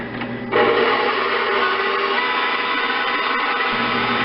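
An electric mixer whips cream into homemade butter: a loud, steady motor whir kicks in after half a second and runs on evenly without a break.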